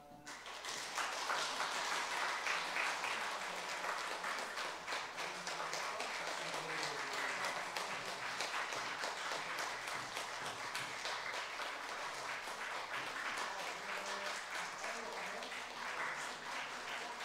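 A church congregation claps steadily for about seventeen seconds, a dense, even sustained applause heard from within the crowd, with faint voices mixed in.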